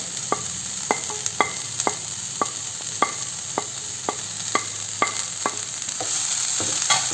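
A spoon stirs chopped spinach into a pan of dal for a Thrissur-style dish, knocking in a steady series of sharp scrapes and taps against the pan over a constant high frying hiss, with no talking.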